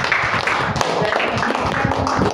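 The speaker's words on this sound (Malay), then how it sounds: "Kita bagi tepukan." An audience at a face-to-face Ramadan speech competition claps for the contestants, giving a continuous, loud, even stretch of applause with scattered sharper claps and no talk over it.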